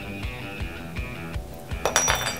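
A whisk stirs bicarbonate of soda into hot honeycomb mixture in a pan, giving rhythmic metallic clinks and scrapes about twice a second, close and clear, followed by a brief louder clatter.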